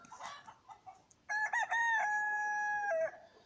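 A large Faverolles rooster crows once, close and loud, a long drawn-out call following a few softer clucks and hen sounds from the flock.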